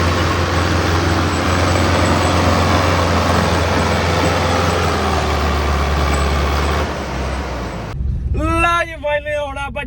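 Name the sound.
tractor engine working to pull out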